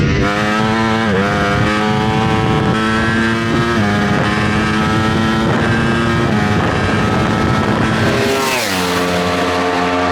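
A 2025 Ducati Panigale V4S sport motorcycle engine revving hard at speed, pitch climbing through the gears with a drop near the end, buffeted by heavy wind noise.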